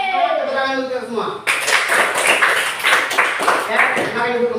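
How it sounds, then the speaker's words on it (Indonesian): A classroom group claps hands together for about three seconds, a dense burst of applause that starts abruptly after a voice and fades as talking resumes. "Tepuk tangan dulu kita semua."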